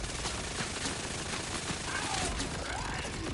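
Gunfire rattles continuously in the video game Borderlands 4, a dense, rapid stream of shots from a hard-to-control gun, loud and unbroken, with faint game effects sweeping through.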